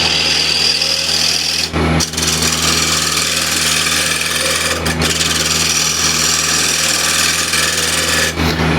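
Wood spinning on a lathe at 1200 RPM is trued up with a scraping tool, giving a loud, continuous rasping grind with steady hum and brief dips where the cut lightens, close and without talk.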